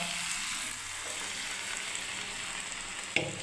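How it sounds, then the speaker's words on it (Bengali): Peas tipped into hot fried spice masala for ghugni give a continuous close, hissing sizzle, with a small clink near the end and no talk. "এবার আমি মটরটাকে ঢেলে দিচ্ছি"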